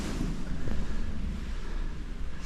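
Strong wind gusts buffet the microphone on the Dunwich coast on a rough day, a steady low roar with waves faintly beneath, no voices.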